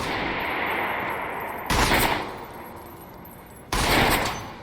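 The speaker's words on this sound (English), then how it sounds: "when I turn my back, they shoot me" Gunfire in a shooter video game with a hostage situation: two loud, broadband bursts about two seconds apart, each a short salvo of shots, over a steady low game ambience with no talk.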